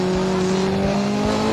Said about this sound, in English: He has squealed from the brakes.